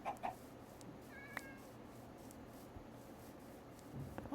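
Cats meow in a video game, faint against a quiet, hissing backdrop. Two short mews come near the start and another thin cry follows about a second later, with no voices.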